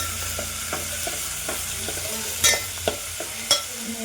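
Masoor dal lentils roasting dry in a pan, a soft continuous hiss with light scraping stirs and a few louder clacks of the spoon against the pan near the end, close up and without speech.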